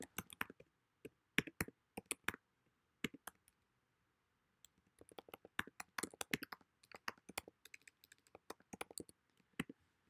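Computer keyboard keys are typed in irregular quick bursts of crisp clicks with short pauses between, close and fairly quiet in an otherwise silent room.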